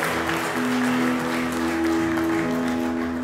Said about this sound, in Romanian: Aplaudați-i.